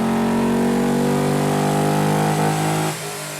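A Ford 302 V8 roars at high, sustained revs during a dyno power run after reprogramming, a loud steady mechanical drone that drops off abruptly near the end.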